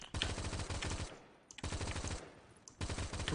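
An M4A1 tank in a video game fires three rapid, loud bursts of gunfire, separated by brief pauses.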